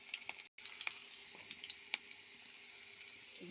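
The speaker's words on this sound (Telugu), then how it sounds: "అలా ఏగుతాయి అవి, ఎల్లిపాయలు ఏగుతాయి" Peeled garlic cloves with cumin and mustard seeds frying in hot oil for an amla pickle, a steady close sizzle with scattered sharp pops and sputters throughout and one brief dropout near the start.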